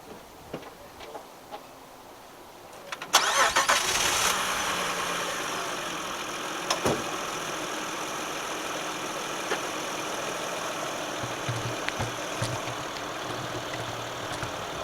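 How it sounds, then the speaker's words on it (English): A car engine cranks and catches after quiet ambient sound, then settles into a steady, moderately close idle that keeps running with faint clicks, outdoors during an oil change. "You're gonna start your vehicle up."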